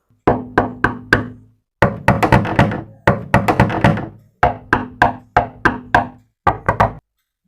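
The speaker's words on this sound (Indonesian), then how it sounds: "Yang kelima adalah mengetuk pintu." Knocking on a door: clustered sets of sharp knocks, mostly groups of three to five raps with short pauses between groups, loud and close with no voices.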